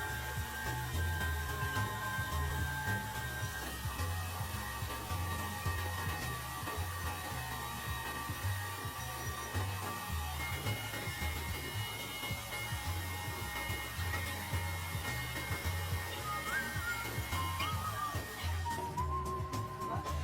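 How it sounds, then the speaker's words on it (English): A CNC lathe with automatic tool changing machines parts in a Peshawar workshop, giving a steady, loud mechanical whine and hum that runs unbroken throughout, with faint higher tones near the end. "This is actually a CNC lathe. It can automatically change tools."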